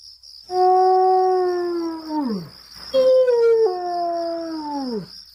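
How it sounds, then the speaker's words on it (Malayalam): Several jackals howl together in long, wavering wails that slide downward, a pause, then another rising and falling chorus. "ദൂരെ നിന്നും കുറുക്കന്മാരുടെ ഓരിയിടൽ"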